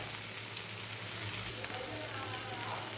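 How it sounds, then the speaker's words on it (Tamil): Onions dropped into hot oil for a Chettinad mutton chukka fry with a steady, close hiss and crackle that runs unbroken under a faint murmur. "எண்ணெய் நல்லா காஞ்ச உடனேயும் வெங்காயத்தை போட்டுக்கணும்"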